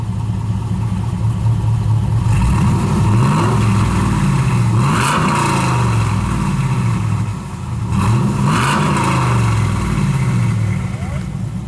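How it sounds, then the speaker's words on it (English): A 2011 Camaro SS or 2012 Mustang GT V8 exhaust roars loudly as it revs during a takeoff, with two rising acceleration surges over a steady rumble. "We're going to do a comparison on the exhaust, start up, a little bit of a takeoff."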